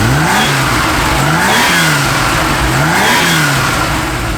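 Porsche 911SC RWB engine revving hard and loud up close, rising and falling in repeated sweeping pulls over a continuous roar.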